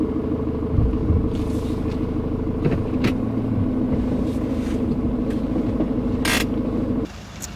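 A car drives up and pulls in to park near a building entrance, its engine rumbling steadily with some creaking and mechanical noise before the sound cuts off abruptly near the end.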